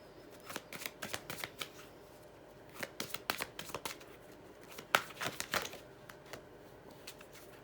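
Tarot cards shuffled close by in quiet, irregular bursts of riffling and flicking, with soft slaps between them.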